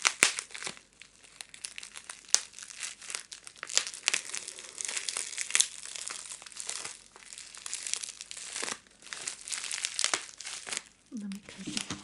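Crinkly plastic parcel packaging being handled and pulled open up close, a steady run of rustling, crackling and tearing bursts with soft whispered talk over it.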